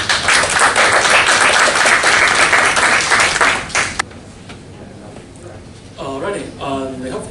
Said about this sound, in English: If we could have a round of applause again.